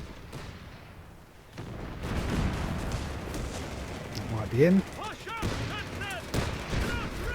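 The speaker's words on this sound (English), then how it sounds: "I'm using the artillery." Artillery fire in the Company of Heroes 3 strategy game sounds as booming blasts and rumbling explosions under battlefield clutter, with a brief whistling shell and a short spoken remark in between.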